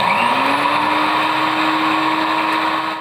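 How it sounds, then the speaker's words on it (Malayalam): A mixer grinder whirs at high speed grinding a roasted coconut mix for Kerala-style beef curry, a loud, steady motor whine with a rising pitch that holds, then cuts off abruptly. "ചൂടാറാൻ വെച്ചതിന് ശേഷം നമുക്കിതൊന്ന് മിക്സിയിൽ അടിച്ചെടുക്കാം"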